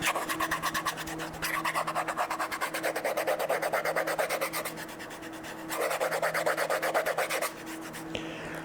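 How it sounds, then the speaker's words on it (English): A finger rubs steadily back and forth across the wooden back of a guitar body, making a close, dry, raspy scraping in even strokes, with brief pauses between bursts and no talking. "So if I rub my finger on the top of the back of the body, you can hear what that sounds like."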